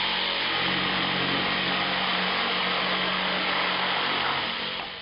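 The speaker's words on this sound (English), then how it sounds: "See what a dramatic difference the orbital action makes to the cutting speed, particularly in thick timber." A Bosch GST 140 jigsaw with orbital action cuts through thick timber, a loud continuous buzzing saw roar that holds steady throughout and eases slightly at the end.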